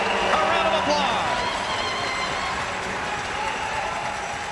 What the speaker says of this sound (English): This crowd will give Andy Kyoto a round of applause.